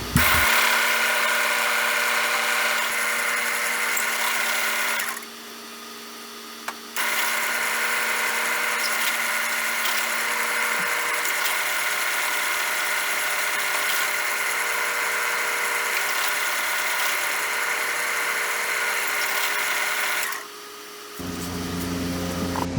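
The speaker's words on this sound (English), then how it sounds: "I'm going to go ahead and drill this as well." A power drill whines steadily at high pitch drilling a pen blank, pausing briefly twice before starting up again, close and loud with no talking.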